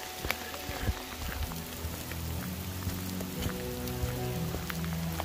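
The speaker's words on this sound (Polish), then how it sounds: "Ale deszczyk ciepły ogólnie." Warm rain falls steadily in a mountain treetop walkway area near Zdiar, Slovakia, pattering on surfaces close by with scattered distinct drips over a constant wash.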